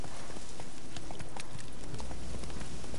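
Horse hooves clip-clopping steadily in the video game Witcher 3, a continuous rhythmic trot close up, with faint game ambience and no talk over it.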